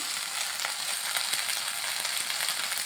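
Spices, potatoes and vegetables frying in hot oil in a pan, a dense close sizzle with crackling pops throughout, no voices.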